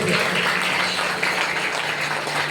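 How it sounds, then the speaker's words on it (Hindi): Church congregation at a Sunday worship meeting clapping hands together, a dense continuous burst of many hands close by, with no voices over it. "हाथों को उठाकर जोर से ताली बजा के परमेश्वर को महिमा करेंगे"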